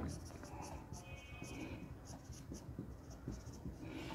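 Pen or chalk writing out capital sources during a finance lecture, with short scratching strokes repeating in an uneven rhythm under quiet room noise and a soft, intermittent voice.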